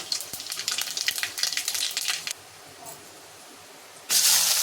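Whole spices crackle in hot oil for Odia home cooking, a bright, close sizzle with light popping that drops away partway through, then a loud steady frying hiss bursts back at the end.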